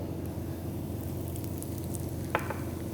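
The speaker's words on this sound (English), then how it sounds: "The oil is now hot. Let's add cumin seeds." Cumin seeds sizzle and crackle in hot oil with a dense, steady frying hiss and one sharp pop partway through, close and fairly quiet, with no talking.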